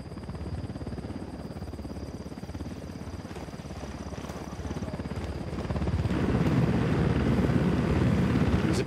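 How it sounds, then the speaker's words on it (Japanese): A video game helicopter in Ghost Recon flies overhead, its rotor thumping in a rapid, steady chop that grows louder and closer toward the end, with a thin high whine above it. "ヘリコプターだ、伏せろ。"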